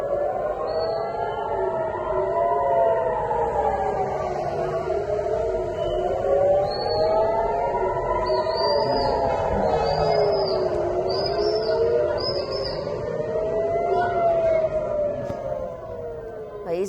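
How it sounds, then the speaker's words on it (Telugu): Air raid sirens wail across Israel during an Iranian ballistic missile attack, several rising and falling tones overlapping loudly and continuously, with faint bird chirps above. "దేశమంతటా ఎయిర్ రైడ్ సైరన్ల మోత మోగుతోంది."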